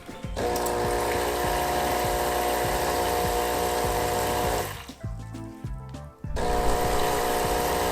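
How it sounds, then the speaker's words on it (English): An espresso machine's pump drones loudly with hissing, rushing water as it rinses the steam wand for several seconds, cuts out briefly with clicking, then starts up again. "do a rinse of the steam wand"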